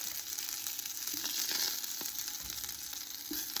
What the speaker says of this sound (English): now the sausages are nicely browned like this